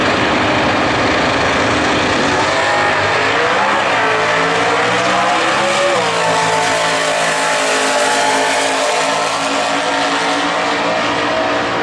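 A Chrysler Sebring Super Stock drag race car at the 2011 Winternationals qualifying, its engine roaring loud and continuous, with the pitch climbing as it revs and accelerates.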